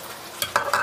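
Onions for shrimp fried rice are stirred in a hot pan, giving a brief burst of sizzling with a couple of quick scraping strokes.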